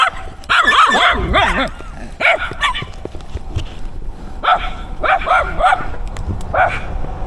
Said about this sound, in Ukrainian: Ось такі собачки.